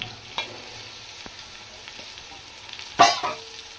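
Ginger garlic paste frying to a reddish colour for biryani, a soft steady sizzle with a few light clinks and one louder stirring scrape near the end.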